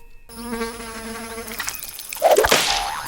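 A wasp buzzes close by, a steady insect drone with clear harmonic whine that fades, followed by brief louder rustling and shuffling noises near the end.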